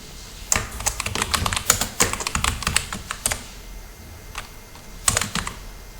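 Fingers type text into a spreadsheet text box on a computer keyboard, making clusters of quick, crisp, close-up keystrokes in uneven bursts with brief pauses between words.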